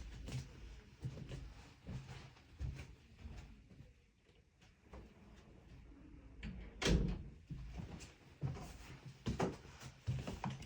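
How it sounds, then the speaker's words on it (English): A door is pushed shut indoors, shown by several close thuds and rattles of the door and latch, with one heavier knock near the middle, and no voices over it. "I'm going to close the door."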